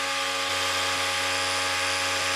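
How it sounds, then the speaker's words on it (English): An impact drill running nonstop nearby, giving a loud, steady mechanical whine with a constant drone that holds unchanged throughout. "I have an impact drill running right next to me while I'm talking to you"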